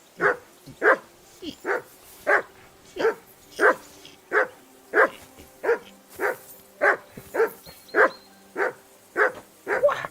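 A dog in the video game Kingdom Come: Deliverance II barks steadily and close by, about fifteen evenly spaced sharp barks in a regular rhythm, with faint game sounds underneath.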